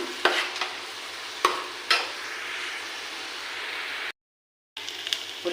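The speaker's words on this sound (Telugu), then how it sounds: "ఈ ఉల్లిపాయ పేస్ట్ బాగా ఇప్పుడు ఎర్రగా వేగాలండి." Onion paste with chili, tomato, curry leaves, turmeric and salt frying in a pan, a steady close sizzle broken by a few stirring scrapes and a brief silent gap.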